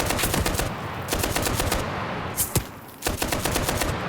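Machine gun fire in Enlisted, a World War II shooter: rapid, close, loud bursts of automatic rounds in several sustained strings, with a short pause and a couple of sharper cracks near the middle.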